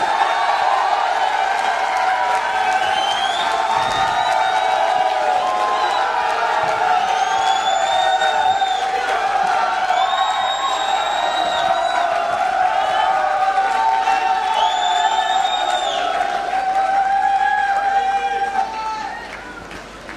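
Audience at an AWPL leadership speech event cheering, whooping and clapping in a sustained wave of noise, with an amplified host's voice calling out over the crowd before the din fades at the end.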